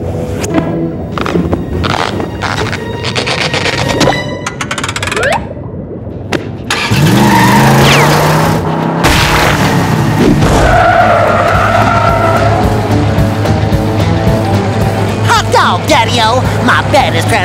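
Racing-machine engine roaring and tires skidding in a SpongeBob game set in Bikini Bottom: loud, continuous revving and screeching squeals with shifting pitch throughout, mixed with game music and a voice talking over parts of it.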